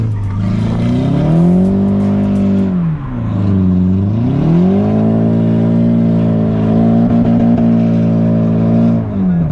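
An Audi A4 drift car engine revving hard under throttle, a loud close harmonic roar that rises, dips sharply around the midpoint, then climbs again and holds near the limiter.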